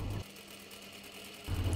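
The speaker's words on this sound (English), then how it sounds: "Next I need to go back to the sewing machine to stitch the collar stand." Sewing machine running steadily to stitch the collar stand onto the back neckline of a cashmere jacket, a low continuous whir lasting just over a second between two louder bursts, close by with no talking.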